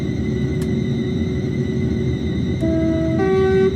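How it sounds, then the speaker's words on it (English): A Thameslink Class 700 electric train's horn in Train Simulator 2022 sounds a sustained tone late in the clip, starting about 2.6 seconds in and holding to the end over a steady rumble of the running train. "this horn sound effect is a little bit slow to respond"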